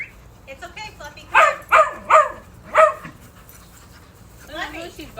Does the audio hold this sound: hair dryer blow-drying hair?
no